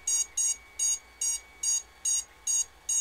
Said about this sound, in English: And it's gonna beep at you guys like crazy.